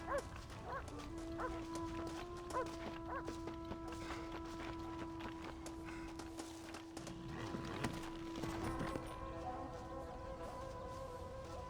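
A dog barks several times in the Red Dead Redemption video game during an elk hunt, mixed with horse hooves, footsteps and a steady musical drone, at moderate loudness throughout.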